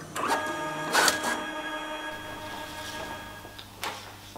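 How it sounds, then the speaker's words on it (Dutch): An inkjet printer runs a test page after cleaning of its print head and cartridges, giving loud whirring and clunking bursts of the carriage and paper feed, then a steadier low hum with a final clack. "Hierna print u een testpagina."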